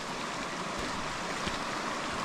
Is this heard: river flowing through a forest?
yes